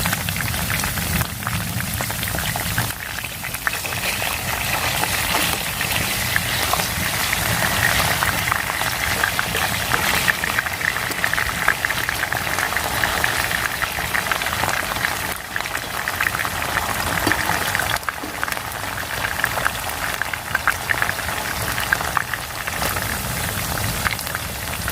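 Chips frying in a pan on a stove inside a hot tent, giving a dense, continuous crackling sizzle that stays loud and steady with no voices.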